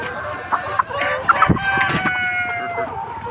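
Many layer hens cluck and squawk in a crowded layer shed, with a rooster-like crow rising in the middle and faint human voices underneath.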